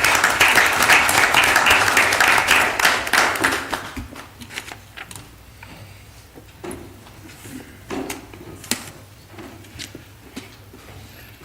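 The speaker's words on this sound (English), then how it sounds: "Y'all give them another round of applause." Applause at a board of directors meeting, a burst of clapping from a roomful of attendees that fades out after about four seconds, leaving scattered taps and room noise.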